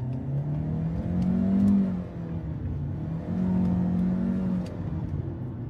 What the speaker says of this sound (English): Let's try